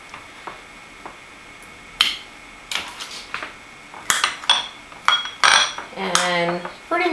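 Sliced pineapple is moved into a bowl with a series of sharp clinks and clatters of utensil and dishware, becoming busier and louder toward the end, with a brief voice at the close.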